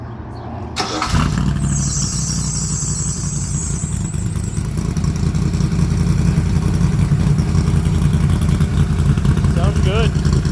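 A car's engine and exhaust run steadily at a car show, a loud, continuous low rumble that starts abruptly after a second and holds at idle throughout, with a brief high whine early on and a voice near the end.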